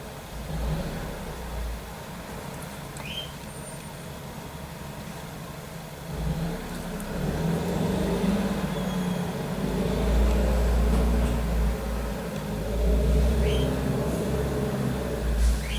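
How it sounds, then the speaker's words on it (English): A city bus on a street route rumbles past outside a home, its engine swelling from a steady distant drone into a louder, nearer roar and then easing off, with no talking over it. "there's a bus route on my street and it goes by."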